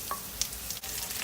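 Chopped onion frying in two tablespoons of oil in a pan for squid sauté, a soft steady sizzle with a faint stir or clink, heard alone.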